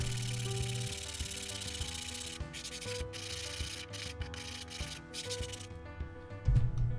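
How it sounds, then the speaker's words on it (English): Steady rhythmic rubbing of a Dura-Grit sanding block across wood, close and continuous, with a few brief pauses between strokes. "I actually like working with my Dura-Grit sanding blocks"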